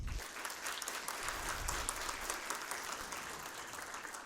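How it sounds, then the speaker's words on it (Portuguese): An audience at the opening ceremony of a Brazilian engineering event applauds steadily, a dense, even wash of clapping heard from within the hall that never lets up. "para encerrarmos essa abertura oficial, eu peço uma salva de palmas"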